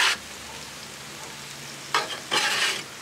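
Chicken, peppers, onions and potatoes fry on a grill, a sizzling hiss that flares loudly in short bursts at the start and near the end with quieter cooking between.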